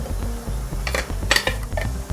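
Ground oat powder is tipped and scraped into a mixing bowl, giving a run of light metallic clinks and taps from a spoon on the bowl, irregular and close.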